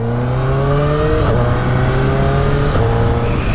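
A Suzuki Hayabusa Gen 3 25th Anniversary Edition motorcycle accelerates hard, its loud engine note climbing steadily and dropping sharply twice as the quick shifter clicks through quick upshifts under heavy wind noise.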